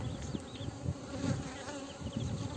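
Honey bees hum inside a queenless hive preparing laying workers, a dense continuous close-up buzz with overlapping wingbeat tones and no other sound.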